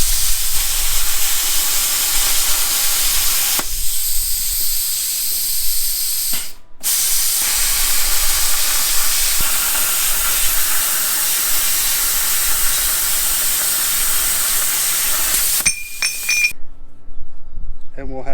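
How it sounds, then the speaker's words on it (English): Plasma cutter zipping around a steel plate to make a motor mount plate for a frame, a loud steady hiss with bright spray that breaks off briefly mid-cut and again near the end, with faint clinks. "then we'll just take the plasma cutter and I'll zip around these real quick"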